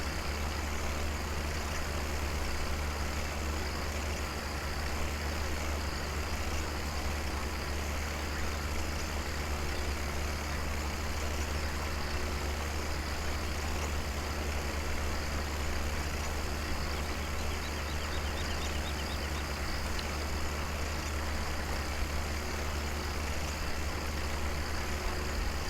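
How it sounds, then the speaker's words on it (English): A tractor engine runs steadily in Farming Simulator 17, a continuous low drone at an even level throughout with no talking over it. "This tractor is running quickly out of fuel now."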